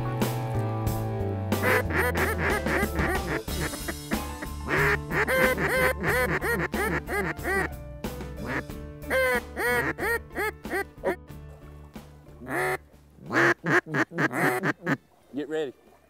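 Loud, rapid runs of raspy quacking ring out during a duck hunt, in repeated bursts with pauses between them, and music plays beneath the first part.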